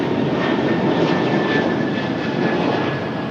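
A Delta Airbus A220 jet takes off at Raleigh-Durham International Airport, its engines producing a loud, steady, broad roar that fills the whole stretch with no talking.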